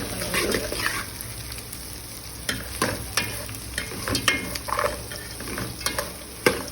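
Onions frying in a pan for chicken dum biryani, a continuous close sizzle punctuated by repeated spatula scrapes and taps against the pan.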